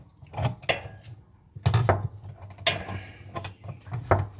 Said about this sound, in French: Clé plate à cliquer.